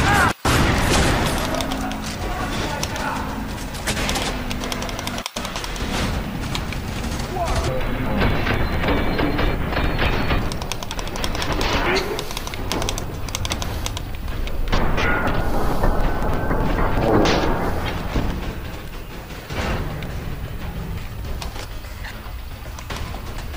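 Shotgun blasts from the first-person shooter F.3.A.R ring out as several loud booming shots amid dense game noise, with a player talking over much of the action.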